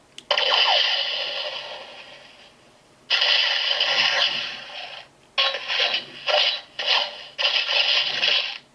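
Bursts of electronic sound effects from a Spider-Gwen Titan Hero Series action figure, crackly and tinny, in a long stretch and then several short choppy bursts with brief gaps, with no talking.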